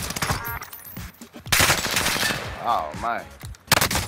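Rapid bursts of automatic and single-shot video game gunfire, loud and close, mixed with overlapping shouting voices and brief talk throughout.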